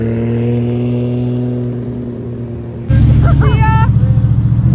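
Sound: classic racing car passing at Silverstone

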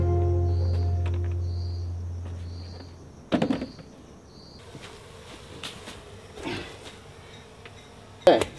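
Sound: honeybees buzzing, escaping from hive box in car

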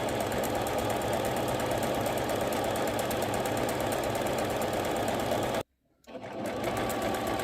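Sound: sewing machine stitching lace trim and piping on pillow

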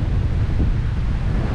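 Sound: wind blowing on a mountain ridge

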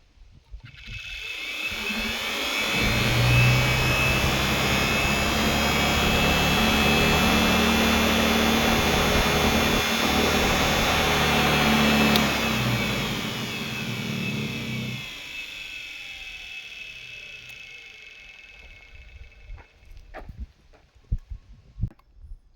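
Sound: universal motor running on solar panel power

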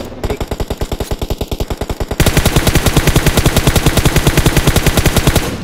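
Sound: gunfire in video game

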